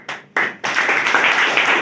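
Applause from an audience at a Hindi-language election rally speech, a short burst, a break, then steady clapping that keeps going, fairly close and loud, with no talk over it.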